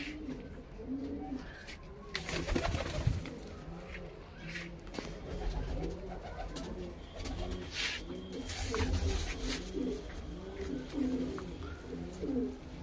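Punjabi pigeons coo close by in a steady, overlapping rhythm, soft repeated throaty calls rolling on for the whole stretch with faint background rustle.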